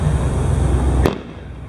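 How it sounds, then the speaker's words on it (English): A single firework bursts with a sharp, loud crack over steady broadband noise from nearby celebration fireworks, then the noise drops to a quieter hiss, with no talk. "it's crazy they're doing fireworks"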